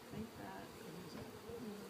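Bees buzz softly and continuously, several droning close by with pitch wavering as they move past, faint overall.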